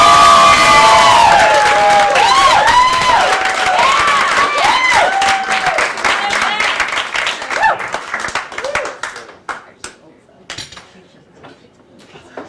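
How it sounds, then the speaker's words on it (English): Comedy club crowd at Gotham Comedy Club clapping and cheering as comedian Beth Farber takes the stage, loud whoops and shouts over brisk applause that gradually thins into scattered claps. "Start clapping right now for Miss Beth Farber"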